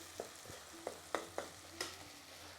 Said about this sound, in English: So just fry those down